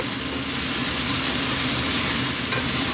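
Garlic and onions sizzle steadily in a pan over lively heat for a vegetarian chili, a constant close crackling fry with no talk.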